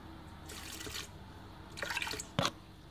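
A mixture of water and milk is poured onto yeast in two short trickling bursts, followed by a brief splash, all soft and close by with no talking.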